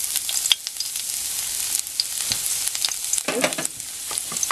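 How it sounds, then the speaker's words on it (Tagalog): Chopped garlic sizzles steadily in a little cooking oil in a pan, a continuous bright frying crackle with a few stirring knocks, and a voice speaks one brief word near the start. "Gigisahin natin. Hintayin lang natin na medyo maamoy lang natin yung aroma nitong garlic."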